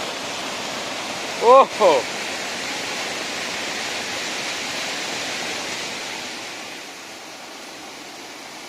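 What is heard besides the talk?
rushing, gurgling water during monsoon rain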